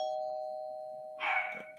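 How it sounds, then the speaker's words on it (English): A doorbell sounds with a steady sustained chime tone followed by a brighter ring, faint and alone with no talk over it. "Somebody ring the doorbell."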